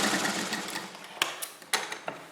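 A sewing machine runs a continuous stitching whir along the bottom edge of an Afghani salwar, broken by a few sharp clicks and knocks near the end, up close with no talk.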